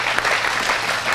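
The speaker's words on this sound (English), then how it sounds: "Thank you for the person that started clapping and everyone followed." Audience members at a music recording school lecture clap in a short, loud, even burst of applause heard up close.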